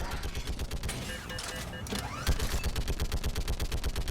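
Rapid automatic gunfire from a video game gun, a fast even stream of sharp shots running the whole time, moderately loud with other game sounds beneath.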